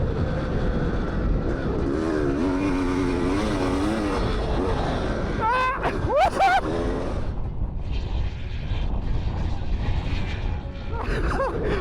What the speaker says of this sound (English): I wanted to push myself and the bike as hard as I could in this final lap.